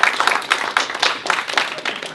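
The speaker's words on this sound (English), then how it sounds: "Can we get a round of applause for that?" A tech meetup audience claps in a room, a short, lively burst of hand clapping with distinct pulses and individual claps audible, fairly close and loud throughout.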